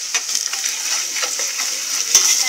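Onions frying in a pan for a homemade fish curry give a steady close sizzle, with rhythmic scraping and clinks of stirring and one sharp metallic tap near the end.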